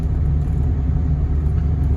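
A Cummins diesel pickup truck with an engine fault cruises on the highway, its low, steady engine drone and road rumble filling the cab continuously without any talk.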